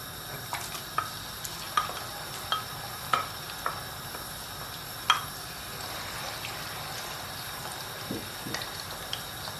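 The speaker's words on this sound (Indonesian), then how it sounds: "saya mau menggoreng dulu bawang putihnya." Garlic frying in oil in a pan for cashew nuts, a soft steady sizzle with sharp spatula scrapes and clinks at a loose, irregular pace.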